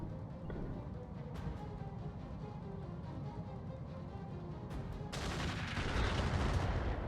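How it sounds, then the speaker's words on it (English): Weapon salvo in the Roguetech mech combat game: a dense, continuous barrage of gunfire and booms that swells louder and brighter toward the end, with no pauses between shots. "Firing a full salvo."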